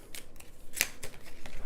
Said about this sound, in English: and then we'll shuffle these cards,